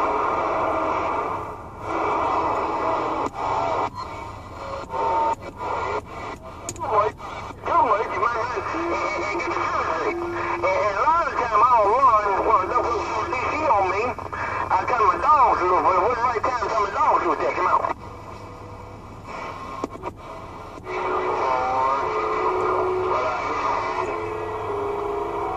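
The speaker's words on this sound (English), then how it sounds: "Channel 19 noise." Static-laden noise and garbled AM chatter from a Cobra 148F-GTL CB radio tuned to channel 19, a steady hiss with warbling voices that cuts out briefly near the end.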